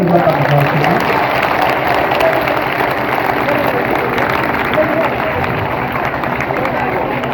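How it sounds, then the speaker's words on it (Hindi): A school audience claps loudly and continuously during a 15 August Independence Day program at Johar School in Sillod, a dense wash of many hands with some crowd voices mixed in. "इंडिपेंडेंस डे की जोरदार तालियों के साथ"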